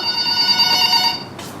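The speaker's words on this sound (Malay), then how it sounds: "Angkat telefon sebelum deringan yang ketiga" A telephone rings with a bright, steady electronic bell tone, loud and close, ending abruptly as a brief noise cuts in during a classroom simulation.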